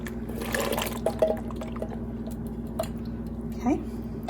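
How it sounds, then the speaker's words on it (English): A can of undrained light kidney beans is poured into a crockpot, giving soft wet glugs, squishes and drips close by against a steady background hum, with a few sharper splats toward the end. "Next, we're going to add in light kidney beans. You only need 1 can. Do not drain them."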